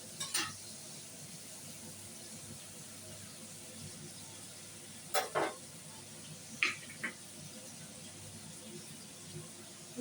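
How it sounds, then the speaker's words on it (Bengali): Prawns fry quietly in a pan as a low sizzle runs under faint kitchen hum, broken by a few sharp clinks and scrapes of a utensil stirring. "একটু লালচে করে ভাজা হোক"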